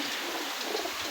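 Pigeons kept together from one household's loft coo softly, with a few low murmuring calls over a brief moment against light background noise.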